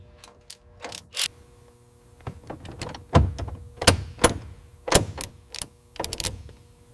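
Bolts being tightened on the steering column brackets of a 1967 BMW 1600 GT, heard as a series of sharp ratcheting clicks and metallic clanks in irregular bursts, close and fairly loud with no talking.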